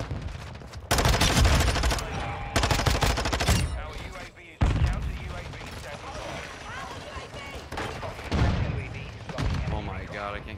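Call of Duty Headquarters match with rapid automatic gunfire and bursts of shots from several weapons, loud and dense throughout, with brief pauses and a player talking over the fighting.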